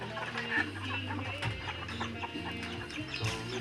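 Chickens cluck and murmur continuously, several birds close by, with a low steady hum underneath.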